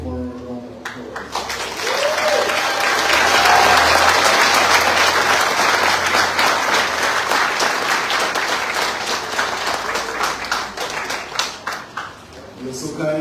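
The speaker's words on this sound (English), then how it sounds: "give over a round of applause" A graduation audience gives a sustained round of applause, with dense clapping that swells and holds loud before tapering unevenly toward the end. A voice is faintly audible beneath it.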